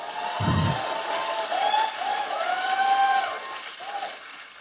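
An audience breaks into applause during a talk about Christian movies, a sustained wash of clapping that swells and holds at moderate loudness before easing off, with a brief voice near the start.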